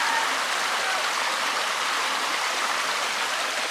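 Steady, close rush of clean water flowing through a small stream channel at a little resort in Bicol, continuous and fairly loud, with no talk.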